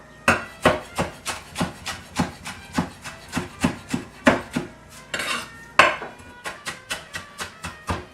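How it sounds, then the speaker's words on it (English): A knife chops hot pepper rings on a cutting board for bread, a steady run of close, sharp knocks in a quick rhythm, about two to three per second, with no talking. "we are going to chop up about a cup of hot pepper rings"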